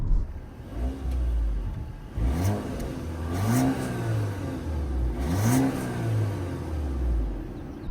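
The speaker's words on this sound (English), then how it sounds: "You don't really get much exhaust noise in the interior, but listen to how it sounds on the outside." A 2018 Audi A4 S-Line heard from outside as it passes and accelerates, its exhaust rising in repeated revving swells and falling back between them, moderately loud with a low rumbling tone and no talk.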